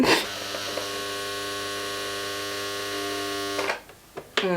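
Steady mechanical hum of a sewing machine running continuously while a vintage devil Halloween costume is stitched, fairly loud and alone, stopping abruptly near the end with a few brief clicks.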